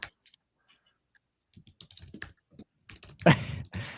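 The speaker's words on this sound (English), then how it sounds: "She's frozen and then she's typing." Scattered soft clicks of typing on a computer keyboard, irregular and close, with a louder rustle near the end.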